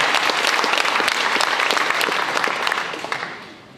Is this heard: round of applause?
yes